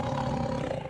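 A tiger roars loud and close for a full second, a continuous rough growling roar with no pauses and no talk over it.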